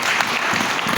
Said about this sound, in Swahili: Pigia Mungu makofi jamani.